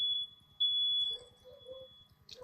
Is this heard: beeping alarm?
yes